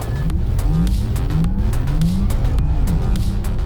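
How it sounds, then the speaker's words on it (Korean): A 2022 Porsche Taycan GTS electric sports car launches hard from a standstill, with a rising electric motor whine repeating as it climbs, a loud rushing road and tire roar, and brief clicks throughout. "타이칸 GTS의 가속 성능을 맛보기 위해 제로백을 측정해 봤는데요"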